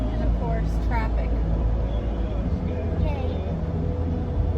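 Road traffic passing outside a car in the rain, with the sunroof stuck open: a steady low rumble of engines and wet road noise, with faint murmuring voices in the background.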